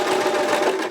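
A sewing machine runs in one steady, fast whirring stitch burst while sewing a unicorn hoodie, close up and alone, then stops.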